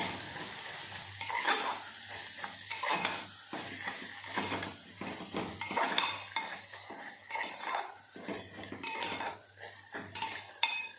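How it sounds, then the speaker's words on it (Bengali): A spoon stirs chilli powder, coriander powder and salt into an oil masala in a pan for Bihari-style egg curry. Repeated close scrapes and clinks against the metal run over a continuous sizzle, steady and unhurried, with no voices. "বারে বারে নাড়াচাড়া দিতে হবে নয়তো নিচে লেগে যাবে"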